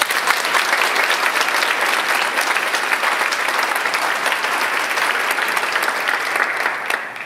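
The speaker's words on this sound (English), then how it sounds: "They deserve a great round of applause and a good job." A chamber of commerce audience in Regina applauds staff, a loud, sustained and dense burst of crowd clapping that holds steady for several seconds before tapering slightly at the end.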